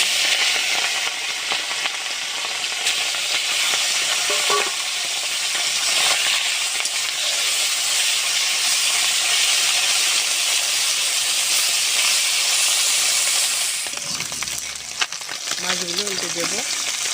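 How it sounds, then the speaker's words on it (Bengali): Small puti fish hiss and crackle loudly in mustard oil in a heated wok, a dense, continuous, close sizzle that persists throughout, with a brief clatter near the end. "মাছ দিয়ে দেবো তেলে।"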